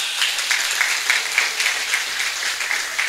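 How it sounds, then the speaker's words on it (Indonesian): A lecture audience claps steadily, a dense, even patter with slight pulsing, continuous through the short stretch and free of speech. "Tepuk tangan untuk garda bangsa."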